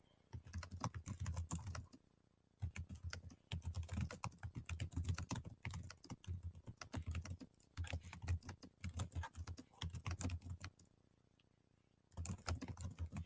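Typing on a computer keyboard: quiet, close bursts of rapid key clicks in several runs separated by short pauses, with no talking.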